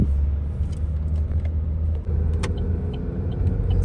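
A car pulls away through a raised toll-road barrier, its engine rumble steady and close, with low road noise filling the whole moment and no speech.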